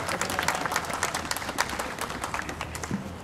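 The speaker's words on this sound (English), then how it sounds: "Your round of applause." A crowd at an outdoor city hall menorah lighting claps for an arriving speaker, brisk uneven applause heard from within the gathering, fairly loud and settling slightly over a few seconds.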